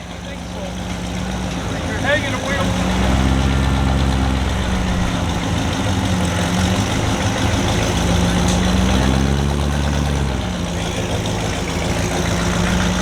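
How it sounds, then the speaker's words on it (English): A classic hot rod fitted with a lawnmower engine idles nearby, a steady low rumbling engine note that swells slightly in places, with people talking over it at a car show. "Correct me if I'm wrong, but I do think that's a lawnmower engine."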